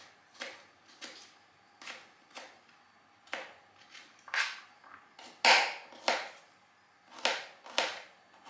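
Sorrel leaves sliced with a knife on a board in a kitchen: a dozen crisp, separate cuts at an uneven pace, close and fairly quiet, with rain falling outside.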